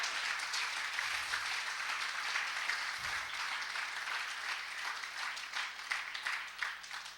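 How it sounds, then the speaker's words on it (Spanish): A church congregation claps steadily in sustained applause throughout, a dense, even patter of many hands. "Vamos a regalarle otra ofrenda de palmas al Dios de la gloria."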